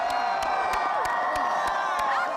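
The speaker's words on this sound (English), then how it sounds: "And as the cheering died down," A large crowd cheers and whoops outdoors at an Oklahoma home reveal, a loud, sustained roar of voices with children's shouts and scattered claps running throughout.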